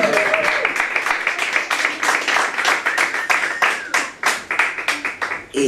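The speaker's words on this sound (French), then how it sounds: "Sous vos applaudissements." Concert audience clapping in a small venue, a sparse, uneven patter of individual hands close by, with distinct claps rising and falling in short bursts.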